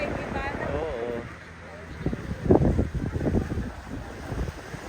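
Seaside wind at General Nakar, Quezon, gusting and buffeting the microphone with a rough, rushing roar, building midway, while people talk close by.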